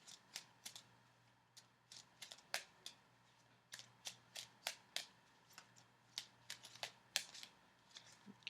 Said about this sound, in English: Now I'm going to shuffle for the outcome card.